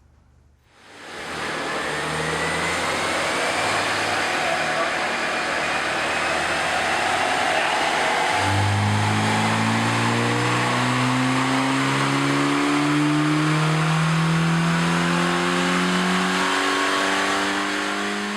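A bone-stock Honda engine revs steadily on a Dynocom dyno, rising and climbing through the gears with a loud sustained drone and harmonic whine, close and continuous with no talking.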